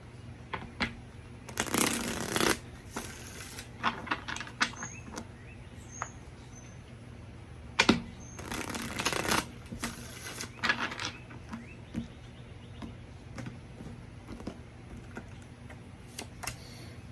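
Tarot cards being shuffled by hand, two longer riffling bursts separated by scattered soft taps and card snaps, all fairly quiet and close with no voice over them.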